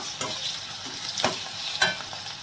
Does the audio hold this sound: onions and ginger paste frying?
yes